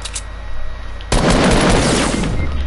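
A loud sniper rifle shot in a video game bursts in partway through, a sharp blast whose roar and echo hang on to the end after a quieter stretch of game ambience.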